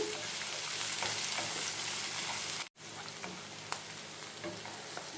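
Onion tempering frying in a pan before okra goes in, a steady, even hiss of hot oil with faint crackles, briefly cut off by a short silence partway through.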